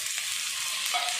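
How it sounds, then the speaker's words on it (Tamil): Chopped chayote and onions sautéing in a pan, a continuous close hiss of frying with faint stirring scrapes throughout, no talk. "இப்போ பொடியாக நறுக்கி வச்சுருக்க ஒரே ஒரு சௌசௌ சேர்த்துக்கலாம்."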